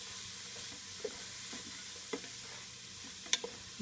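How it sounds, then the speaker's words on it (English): Cauliflower stirred around in a pot with leeks and garlic, a soft low sizzle with a few light scrapes and clicks from the spoon, quiet and close, no talk. "And add in the cauliflower. Stir that around."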